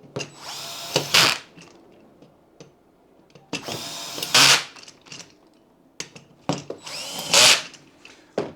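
A power drill drives bolts while a Razzor ergonomic office chair is assembled. It whirs in three short, close bursts, with quiet gaps of handling noise between them.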